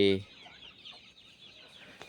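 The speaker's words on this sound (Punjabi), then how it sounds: "ਆਪਣੀ ਮੁਰਗੀ ਨੂਰ ਜਹਾਂ ਗੰਜੀ ਹੋਈ ਪਈ ਆ" Aseel chickens cluck softly in a quiet farm yard, with a brief louder burst right at the start and faint clucks continuing throughout.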